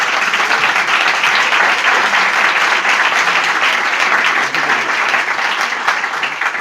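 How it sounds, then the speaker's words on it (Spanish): Loud, continuous audience applause welcoming a speaker on Spanish mystery lore, dense even clapping sustained throughout and slowly tapering near the end. "Un aplauso."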